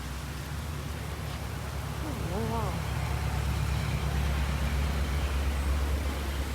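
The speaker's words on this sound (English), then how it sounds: "There's some random really loud car that just went by." A loud car passes through a pouring rainstorm. Its low engine roar swells beneath the steady hiss of heavy rain, and a voice briefly breaks through midway.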